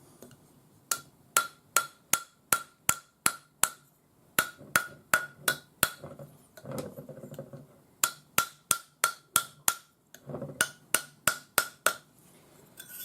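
A silver bangle is hammered on a steel bracelet mandrel: sharp metallic blows struck in quick, even groups of six or seven, with brief pauses and faint handling noise between groups.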